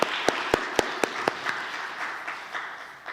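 Applause at a Sunday church service, with a few loud, separate claps up close over a soft, fading wash of clapping from the congregation.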